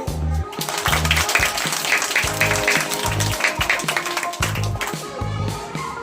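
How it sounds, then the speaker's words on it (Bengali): Primary schoolchildren clap together in a burst of applause at a West Bengal Day school celebration, the crowd sound rising and falling over background music. "হাততালি।"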